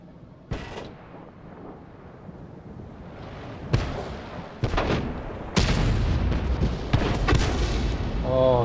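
Tank guns firing in World of Tanks, several heavy booming shots at irregular intervals, loud and close, with rumbling game noise between them.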